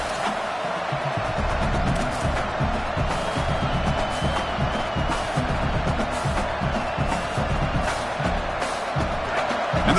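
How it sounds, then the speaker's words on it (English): A packed college football stadium crowd roars for the Notre Dame versus Michigan playoff game, a dense, loud, sustained swell of cheering and yelling that holds steady throughout. "the crowd coming to life here, trying to help this defense down in the red zone"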